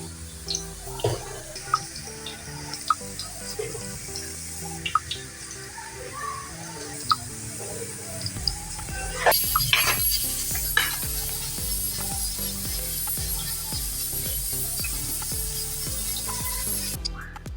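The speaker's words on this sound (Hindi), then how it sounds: "ये देखिए हमारे पकौड़े पक गए हैं" Mixed-vegetable pakoras fry in oil in a kadai with a bubbling, continuous sizzle heard up close. Spoon scrapes and clinks repeat throughout, and the frying turns fuller and louder partway through.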